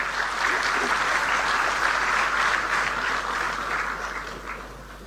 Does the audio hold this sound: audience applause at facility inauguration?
yes